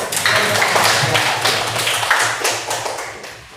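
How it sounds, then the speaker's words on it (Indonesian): A class of students applauds together in a classroom after group presentations during a teacher's performance assessment, a steady, dense patter of many hands clapping close by for several seconds. "Oke, tepuk tangan dulu untuk."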